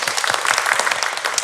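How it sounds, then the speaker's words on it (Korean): A short burst of dense audience clapping at a healing concert for emotional labor workers, loud and continuous with no voices over it. "우리 원하는 박수 한번 부탁드리자고요"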